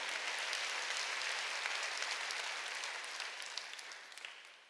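Congregation applauding at a Sunday church service, a steady wash of clapping from many hands that holds level and then gradually tapers off toward the end.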